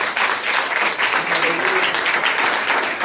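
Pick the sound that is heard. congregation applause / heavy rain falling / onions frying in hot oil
congregation applause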